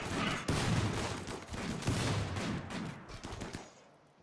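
Rapid bursts of gunfire crackle and thud in irregular volleys during a RimWorld colony fight, fairly soft overall and fading toward the end.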